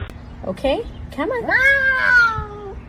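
A cat meows several times up close, short mews building to a long drawn-out cry, with people talking around it.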